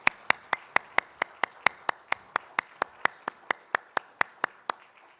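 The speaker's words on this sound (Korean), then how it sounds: "하나님께 영광의 박수 함께 올리겠습니다." Hands clap in a church congregation during a Sunday worship service, making a crisp, evenly spaced beat of about two dozen sharp claps that sounds close and isolated, with quiet gaps between them.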